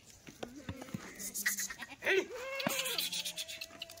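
Kathiawadi goats bleat in several short, wavering calls close by, some overlapping, with scattered shuffling and rustling of livestock between them.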